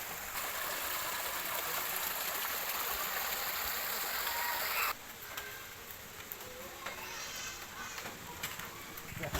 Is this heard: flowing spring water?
yes